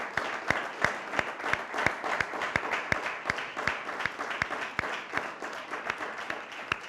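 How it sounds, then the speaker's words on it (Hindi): A church congregation claps loudly at a Sunday pastoral service, with sharp hand claps in a steady, even beat over a thick wash of crowd applause that carries through the whole stretch. "मैं चाहता हूँ कि हम अपने खुदावंद को ज़ोरदार तालियों के साथ जलाल दें, ज़ोरदार तालियों के साथ।"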